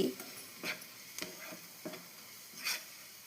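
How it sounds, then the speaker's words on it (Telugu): Faint sizzling of oil tempering garlic and curry leaves, with a few soft scraping strokes of a spoon stirring, spaced out over a few seconds. "నూనె పోపుకి వేసుకొని కొంచెం వెల్లిపాయ వేసుకొని కరివేపాకు వేసుకొని"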